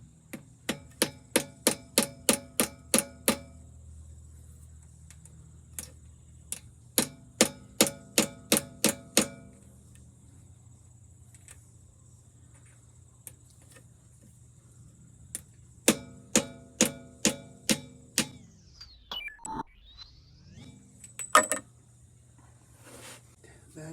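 Sharp metallic taps of a hammer driving a 5/16 punch to seat a part in a GM 4L80E transmission, coming in quick rhythmic runs of about ten blows with pauses between, over a low background hum.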